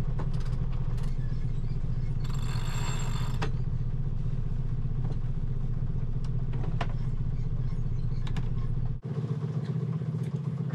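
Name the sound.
sailboat engine idling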